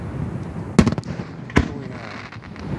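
Fireworks over the Hudson River heard from a sailboat, two sharp loud booms a moment apart followed by rumbling decay and a crackling tail.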